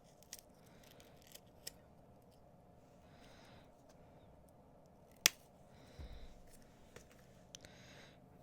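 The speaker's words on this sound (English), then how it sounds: "this is a 7-strand bead stringing wire, and I'm gonna cut 2 lengths" Seven-strand bead stringing wire snipped in a quiet room: a few faint clicks and handling sounds, then one sharp, close cut midway, followed by soft rustling.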